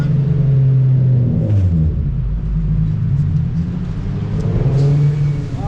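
A Nissan 350Z HR engine starts and revs in steady bursts, loud and close, with a deep rumbling idle between the swells.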